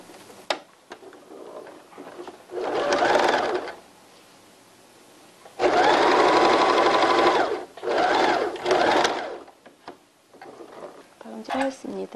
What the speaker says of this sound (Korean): 앞면에 밑선을 겉과 겉끼리 마주보게 한 다음에 박음질 해주셔야 됩니다.